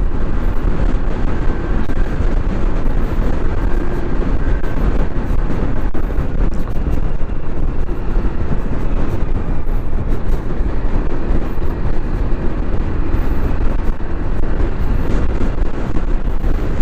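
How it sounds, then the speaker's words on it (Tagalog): Strong wind buffets the microphone outdoors on the Dampalit megadike in Malabon City, a loud, constant low roar rushing and gusting for the whole stretch with no talk. "Hinahangin yung ulo natin sa lakas ng hangin mga lodi."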